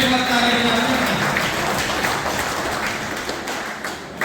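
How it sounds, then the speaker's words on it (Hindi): Audience applause at an outdoor Hindi kavi sammelan (poetry recital), a steady wash of many hands clapping for about four seconds, fairly loud and continuous, with a voice briefly audible early on. "ताली बजा।"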